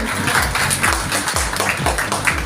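Audience applause at a women's safety and employment event, loud sustained clapping from a crowd with individual hand claps audible close by, steady throughout.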